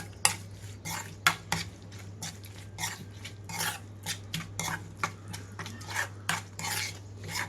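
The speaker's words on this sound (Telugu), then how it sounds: "తాలింపులో కలిపేసుకుంటున్నాను మొత్తం." A spoon works mint chutney into a tempering in a metal pan, making repeated scraping and clinking strokes in an uneven rhythm over a low steady hum, up close and with no talking.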